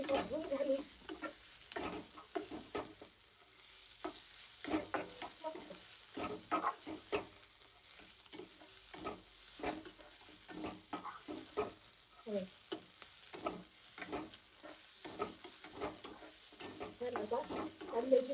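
Spring onion greens frying in a pan for baingan bharta, a continuous soft sizzle broken by frequent scraping and clattering stirs of a spoon against the pan, close and steady with no talking.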